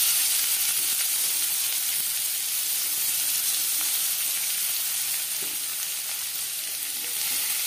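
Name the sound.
chopped onions sizzling in fish-frying oil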